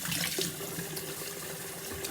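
Water running steadily from a kitchen tap while making homemade caciocavallo cheese, a continuous close splashing rush filling the space without pause.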